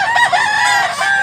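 A Tiger Hennie gamecock rooster crows once, loud and close, its strained call drawn out over about a second with no talk over it.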